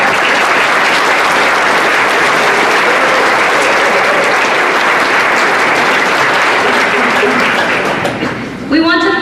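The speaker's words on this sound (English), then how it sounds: "Let's give all of them a round of applause." Sustained, loud applause from an audience at a community program recognition event, dense steady clapping that fades near the end as other sounds enter.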